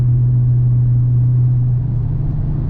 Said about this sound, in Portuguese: esse carro faz um barulho de motorização bem estranho, um barulho um pouco mais grave